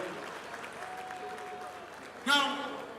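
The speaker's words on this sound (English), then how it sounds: "Let's give them a round of applause." Audience at an award event with the Governor of Ogun State, applauding steadily at a moderate distance before a voice briefly cuts in near the end.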